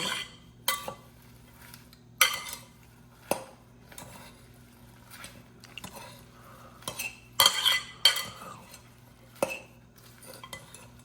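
Utensils toss a fresh salad in a bowl, producing repeated clinks and scrapes against the bowl in uneven bursts separated by short quiet gaps, close up and fairly soft, with no talking.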